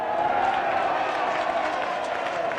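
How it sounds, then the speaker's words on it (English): A rugby league stadium crowd reacts to a referee's decision with a steady, moderately loud wash of applause and cheering that carries on throughout. "I think you can hear from the response from the crowd there that they're quite pleased with that decision from the referee"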